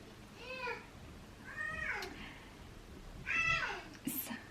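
Whiny, rising-and-falling cries of a baby downstairs, heard faint and distant in several short bursts, with a quiet room hum behind and a voice speaking nearby.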